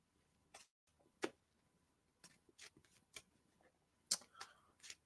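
Tarot cards being shuffled in a quiet room, heard as faint, scattered flicks and soft snaps of card stock at irregular intervals, with a few slightly sharper riffles.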